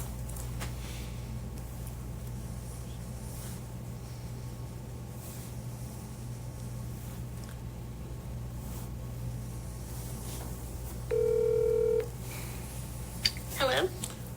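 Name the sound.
telephone number being dialed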